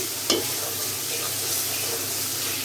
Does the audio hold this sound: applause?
no